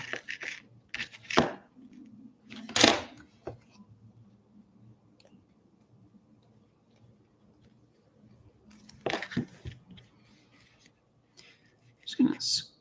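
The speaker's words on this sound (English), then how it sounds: "I can probably even use my hobby knife here to just scrape that excess off." Hobby knife scraping excess plastic off a Gundam model kit in short, close bursts of soft scratching and clicks, separated by quiet pauses, with faint whispery handling.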